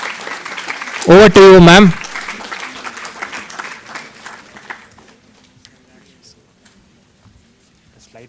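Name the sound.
audience applause for a speaker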